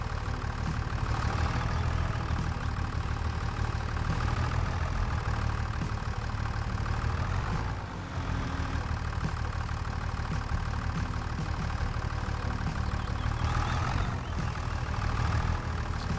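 A tractor engine idles steadily in the farming game Farming Simulator 25, a continuous low rumble with a knocking edge that holds at an even level throughout, briefly dipping once before resuming.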